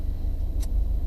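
A 2016 Subaru WRX with a CVT idling after its revs settle, a low, steady engine rumble heard close up with a single brief tick.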